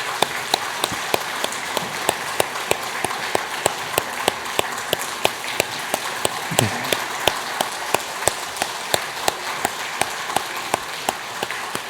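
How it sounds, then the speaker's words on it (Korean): A church congregation during Sunday worship claps in steady unison, a loud, rhythmic beat of sharp claps repeating about twice a second throughout. "우리 들어갈 때까지 계속 박수였으면 좋겠습니다."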